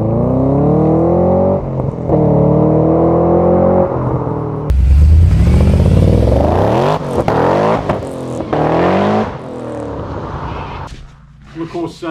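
Supercharged LSA V8 in a modified Holden VF Commodore revving hard and pulling away, a loud rising and falling engine roar with sharp throttle blips and gear changes, close to the microphone.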